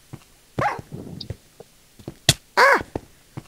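Dog barks in a multiplayer video game server, a few sharp close barks spaced out over low ambient noise, with one loud yelp-like burst near the end.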